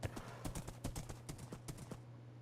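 A horse in Minecraft trots along, its hooves producing quick, rhythmic clip-clops in steady repeated beats over a low hum, close and clear, with no talking.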